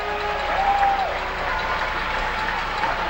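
A hockey arena crowd of over 4,000 cheering and applauding during a Fort Wayne Komets game at Reading: a dense, steady roar of clapping and voices that holds at one level throughout.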